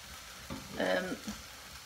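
Lean vacuum-packed mince sizzles in a hot pan greased with Fry Light spray instead of oil, a soft, close frying hiss that swells briefly in the middle of a quiet kitchen.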